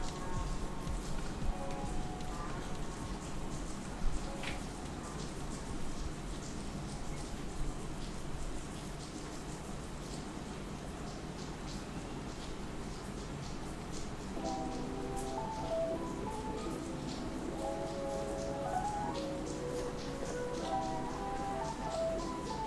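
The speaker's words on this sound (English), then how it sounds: "I'm not quite sure if you guys can hear the rain out there" Steady rain falls outside a home kitchen, a soft continuous patter of drops heard faintly and evenly throughout, with light tapping and rustling on top.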